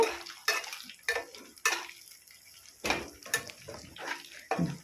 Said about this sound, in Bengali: দেখেছেন তো বন্ধুরা কেমনভাবে নাড়ছি খুন্তিটা কানা দিয়ে আস্তে আস্তে করে